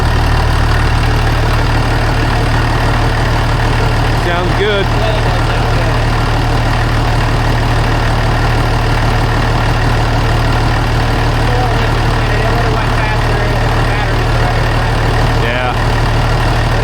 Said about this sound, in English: Yep, nice running tractor.